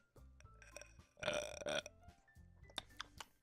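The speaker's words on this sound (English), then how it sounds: "Yeah, I gotta burp." A person lets out a single drawn-out burp at close range, lasting about half a second, over soft background game music.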